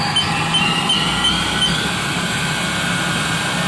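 A 2007 Haas VF 5XT CNC machine spindle spins at 2,500 RPM, a steady loud mechanical hum with a constant high whine over low machinery rumble, unbroken throughout.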